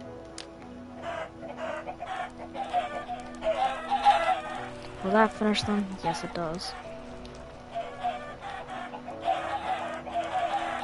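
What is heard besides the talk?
chickens clucking in video game Minecraft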